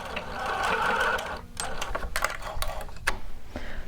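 A sewing machine back stitching at the end of a seam on shorts or pants, a steady whirring run that pauses briefly, then resumes in shorter, choppier bursts, close and clear with no talk.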